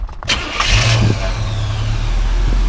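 A 1985 Chevrolet K5 Blazer with about 96K miles cranks briefly, then its engine catches and settles into a steady, loud idle up close.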